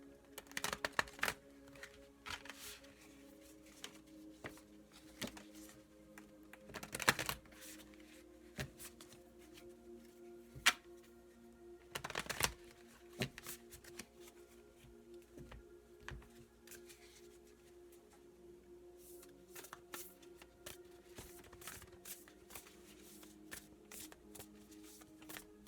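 Mystical shaman oracle cards are shuffled by hand in soft, irregular riffling bursts with light taps and pauses between, quiet and close, with no one speaking.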